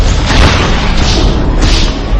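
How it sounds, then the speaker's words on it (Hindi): A loud, sustained explosion booms and rumbles in a time machine laboratory, a dense roar that carries on steadily for a couple of seconds with no voices over it. "वो मशीन को टेस्ट करने ही वाले थे कि एक विस्फोट हो गया।"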